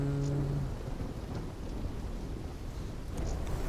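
Thunderstorm in the video game Call of Duty Black Ops 3, with steady heavy rain and rolling thunder rumbling throughout, loud and continuous with no talking.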